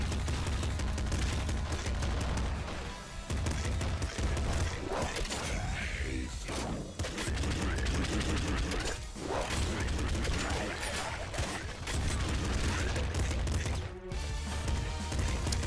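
Weapon fire in the top-down shooter Nuclear Throne, a dense, loud barrage of shots and crashes layered over continuous game music and effects, with brief dips in the clatter.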